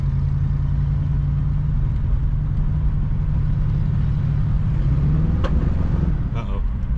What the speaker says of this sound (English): That was me putting my foot all the way in it.